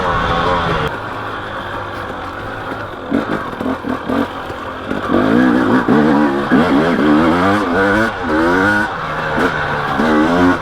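A 2018 KTM 250XE two-stroke dirt bike ridden on woodland trails, its engine revving up and down in rapid surges with rising and falling pitch, loud and close, with some clatter.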